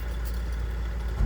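A semi truck's diesel engine idles steadily and close by through a CDL pre-trip inspection, with a low constant rumble and a brief surge near the end.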